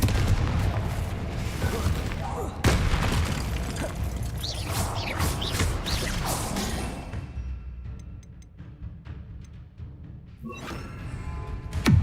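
Confringo fire spell in the video game Hogwarts Legacy, a loud booming blast with dense crackling debris and rumbling, dropping to a quieter lull before a renewed crackle at the end.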